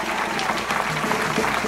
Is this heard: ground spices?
no